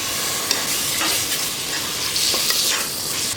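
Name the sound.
chicken frying and being stirred with masala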